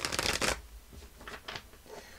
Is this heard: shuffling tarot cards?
yes